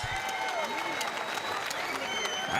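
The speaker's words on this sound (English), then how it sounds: "Let's have a round of applause for these amazing middleweight" A crowd at a bare-knuckle fighting event (BKFC) applauds after a middleweight bout in Hollywood. Dense, continuous clapping mixes with cheering voices and fills the whole moment.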